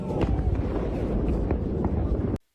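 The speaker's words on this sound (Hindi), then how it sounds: "उसके जमीन से टकराते ही वहां एक तेज धमाका हुआ" A Russian fighter jet crashes into the ground and explodes, a loud, dense, rumbling blast roar with crackling bursts that fills the whole clip before cutting off abruptly.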